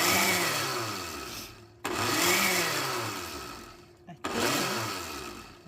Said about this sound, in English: So we're going to give this a little coarse grind here.